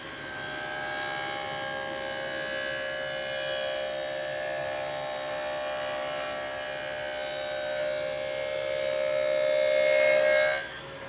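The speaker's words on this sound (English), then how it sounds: "I want to make a dado full length in this scrap of plywood" A table saw cuts a full-length dado in a scrap of plywood, producing a steady, loud, tonal whine that swells toward the end of the cut before abruptly dropping off.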